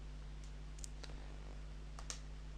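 Two faint, sharp computer mouse clicks, spaced more than a second apart, during right-click path editing in design software. The room is quiet apart from a low steady hum, and no one speaks.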